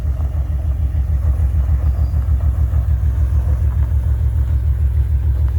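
A 1995 GMC truck on a test drive after a transmission swap rumbles with a deep, steady engine drone, close and continuous with no talking.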